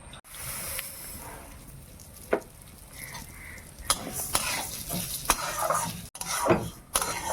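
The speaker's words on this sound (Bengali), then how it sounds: "বন্ধুরা অল্প একটু তেল দিয়ে আমি ডালটাকে আগে ভেজে নেব।" Mung dal fries in a little oil for bhuna khichuri, a soft sizzle broken by stirring scrapes and occasional sharp clicks of a utensil against the pan, heard up close with no voices.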